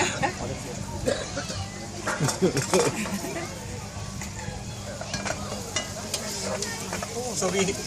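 Onions sizzle and crackle in a pan for a Sri Lankan crab curry while utensils clink and stir, with people talking over the frying.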